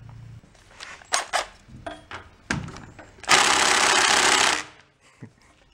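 Power tool buzzing out bolts on a junked pressure washer pump, a loud sustained whir lasting about a second and a half after scattered clanks and taps of handling metal parts.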